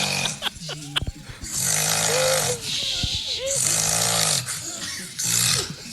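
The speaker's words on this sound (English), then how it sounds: "This guy is a whole nother level of snoring." A man snoring loudly in long, harsh, rattling bursts that repeat with short pauses between, close and dominant, with some talking in the background.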